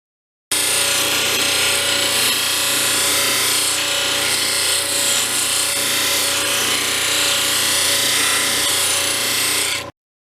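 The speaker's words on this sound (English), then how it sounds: "the back is then polished a little on the Genie" Lapidary Genie machine polishing the back of a stone cabochon, a loud steady whirring grind that starts abruptly, holds unbroken for about nine seconds, then cuts off, with no voices.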